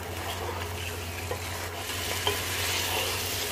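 Chicken frying with onions for biryani makes a dense, continuous sizzle, close and steady, with faint stirring scrapes and a small clink of a utensil against the pan.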